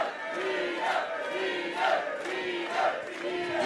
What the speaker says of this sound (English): This crowd rallying behind Nino